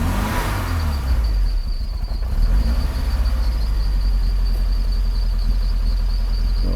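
A car engine, just repaired after distributor-pump work and fed from an external fuel tank, is started and revved, a close rumbling idle rising into revs with a steady high whine over it and no talk.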